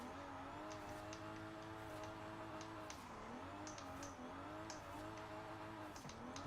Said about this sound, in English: Like, off the bat, spinning tire in fourth.